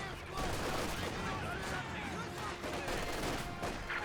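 Gunfire in Company of Heroes 2 strikes a conscript squad as it pushes forward: a dense, steady stream of rifle and machine-gun bursts running under someone commentator's continuous voice.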